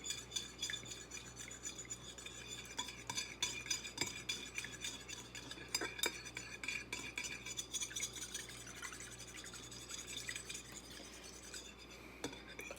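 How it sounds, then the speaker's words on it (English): A small whisk stirs French toast batter in a bowl, giving a steady run of rapid light clinks and scraping taps against the sides, close and continuous with no talking. "I'm just using a small little whisk here"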